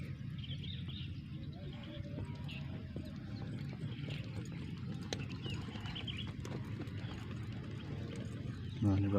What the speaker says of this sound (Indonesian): Nah, ini ada kuda-kuda sedang berlatih.